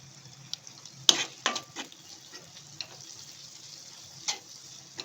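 Chili powder with coriander powder and garam masala frying in oil for dal makhani, a soft low sizzle punctuated by a few sharp clinks and scrapes of a spoon against the pan, quiet overall.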